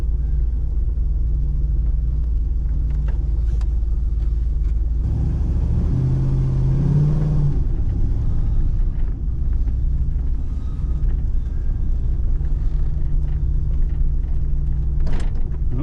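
Pontiac Grand Prix with a faulty transmission that will not shift into first, heard from inside on a test drive: a steady loud low engine rumble with a brief rev swell midway, no voices.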